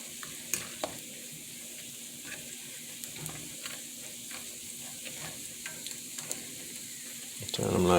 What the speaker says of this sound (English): Okay, so I give it like 10 minutes to fry, then I just turn them.